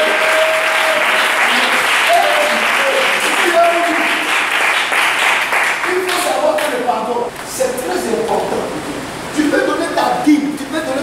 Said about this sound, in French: Acclame la parole de Dieu.